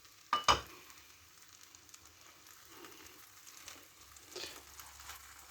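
Potatoes frying in a pan give a faint, soft sizzle with a couple of sharp clatters near the start and quiet stirring scrapes later, close but low in level.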